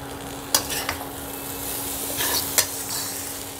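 Large chunks of chopped tomato are stirred in a frying pan for Punjabi bhindi chana, a gentle sizzle under two sharp spatula clicks against the pan and softer scraping in between.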